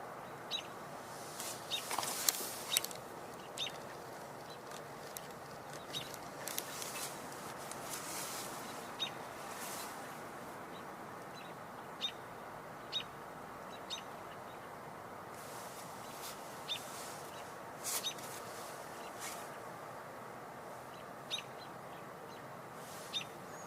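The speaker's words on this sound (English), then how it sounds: "Some of the robins are vocalizing nearby." Robins calling nearby in an outdoor nesting area, with short chirps and whistles repeating irregularly over steady, faint ambient background noise, no voices.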